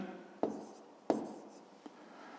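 A pen writes numbers on paper, a few short sharp scratches and taps close by, quiet and spaced irregularly over a faint room hiss.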